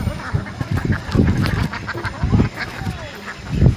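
Ducks on a pond-side duck farm in Bangladesh give repeated nasal quacks and honks, close and fairly loud, mixed with a person talking nearby.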